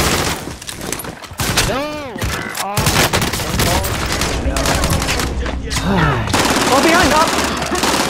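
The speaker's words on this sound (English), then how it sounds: "Hostile fire!" Rapid gunfire and bursts of automatic weapons in the first-person shooter Call of Duty: Modern Warfare, loud and continuous over game sound effects, with someone shouting in alarm over the shots.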